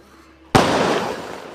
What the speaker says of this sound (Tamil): அடுத்து இன்ஸ்டான்னு ஒரு வெடி இருக்குது அதையும் அடிக்க போகிறோம்